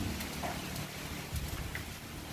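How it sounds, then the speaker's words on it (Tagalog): Steady typhoon rain hisses continuously, with a low rumble of strengthening wind beneath and no voices. "At andyan pa rin ang ulan."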